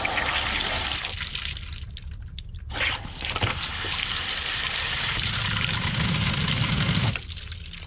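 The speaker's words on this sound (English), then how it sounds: "I'll just turn the water back on through this valve, and then you'll see it coming from underneath this top hat." Water leaking from a frozen sprinkler backflow preventer after the supply valve is turned back on, a steady loud hiss and gush of spraying water with a short dip in the flow partway through.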